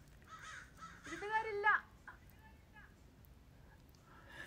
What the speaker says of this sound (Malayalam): അപ്പോൾ ഇത് ഉണ്ട്, ഒരു കാക്ക